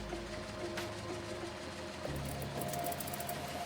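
A Yamaha Vmax1200 motorcycle engine idles steadily at about 500 rpm just after starting, a low, even running drone heard alone at moderate level.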